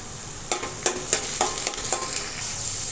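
Peas tipped into a hot frying pan with chopped onion, sizzling steadily while a spatula scrapes and stirs in several distinct strokes, close and fairly loud.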